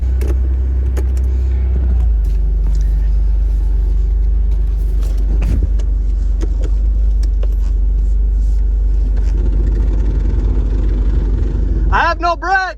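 Engine of a second-generation Toyota 4Runner idling after a jump start, a low steady rumble running close and continuous throughout while voices speak over it.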